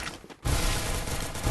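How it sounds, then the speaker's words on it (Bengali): Gunfire in a PUBG or Free Fire video game, a dense, rumbling volley that swells after a short lull and keeps going steadily to the end. "গুলি মারছি তুই গুলি মারছি বল"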